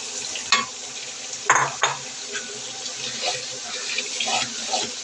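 Garlic and crushed chepa dried fish are stirred in a cooking pot, giving a steady wet sizzle with a few sharper scrapes and clatters of the utensil against the pot, close and continuous, with no talk.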